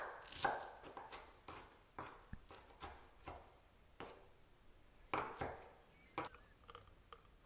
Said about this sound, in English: And a little bit of parsley, chop fine.